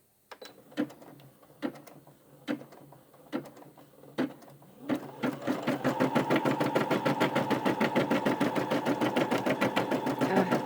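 A Brother embroidery machine stitching a quilt block starts with a few slow, separate needle thumps, then speeds into a steady, rapid mechanical stitching rhythm heard up close.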